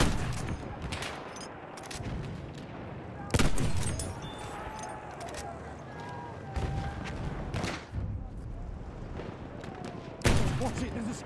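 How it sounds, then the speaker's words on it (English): Enemy machine gun fire in the Battlefield 1 video game, a steady crackle of distant battle gunfire with louder bursts at a few points, mixed with voices calling out over the noise. "Enemy machine gun! There's a shock trooper! Look out! Machine gun!"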